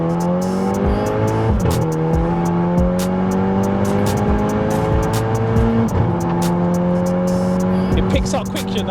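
A 1.4 VW Polo GTI engine revving up hard through the gears, loud and close from inside the car, the pitch climbing steadily, dropping at each gear change, then climbing again, with people talking over it.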